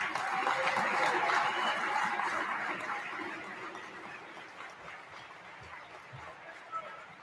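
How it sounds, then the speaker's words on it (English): Ringside audience at a college boxing event applauds an honoree, with dense clapping and crowd noise that is strongest at first and then slowly thins as scattered murmurs continue. "a round of applause"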